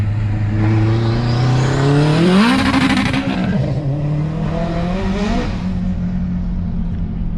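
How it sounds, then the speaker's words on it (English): A 700HP 2004 Acura TSX with a straight pipe and MagnaFlow resonator accelerating hard, a loud droning engine note climbing steeply through a gear, then settling into a sustained high-revving pull heard from inside the car. "It's like, okay, like we're already going fast and now the car's still pulling and still pulling."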